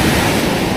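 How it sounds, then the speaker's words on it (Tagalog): Strong wind buffets the microphone in a steady, loud roar of broadband rumble with no gaps, and nobody speaks over it. "Ay, ang hangin."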